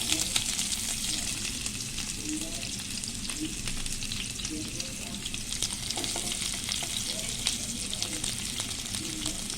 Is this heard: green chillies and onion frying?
yes